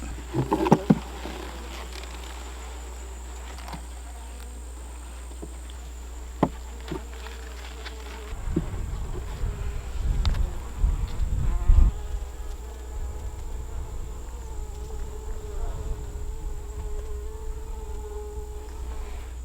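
A steady, low hum of bees buzzing around their hive throughout, with occasional knocks and handling noises of nearby beekeeping equipment, no speech.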